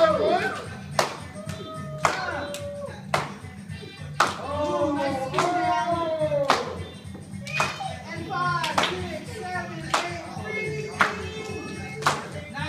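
Children clap in steady, sharp bursts to cheer on teammates at a break dance session, with excited young voices calling and talking over the rhythmic claps throughout.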